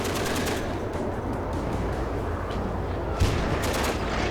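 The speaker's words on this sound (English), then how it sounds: "T-55 is firing." A T-55 tank fires in the game WARNO over a steady battle din of rapid gunfire, and one sharp, close cannon boom stands out near the end.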